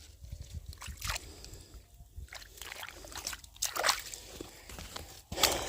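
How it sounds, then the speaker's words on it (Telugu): Irrigation water flows through a corn field, sloshing and splashing close by in uneven surges with occasional drips and brief louder gushes. "సో ఈ విధంగా అయితే నీళ్ళన్నీ నడుస్తూ ఉంటాయి, చివరిదాకా పోతూ ఉంటాయి"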